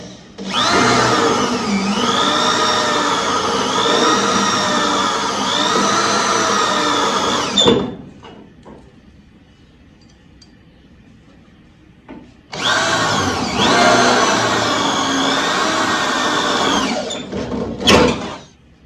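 A power screwdriver drives screws to fix a quarter panel onto a 1968 Firebird or Camaro body. There are two long, loud, whining bursts with a pitch that wavers under load, separated by a quiet gap, and a short final buzz at the end.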